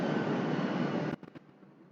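Airplane passing low overhead near an airport, a loud broad roar that fills the first second and then cuts off abruptly, followed by faint scattered knocks.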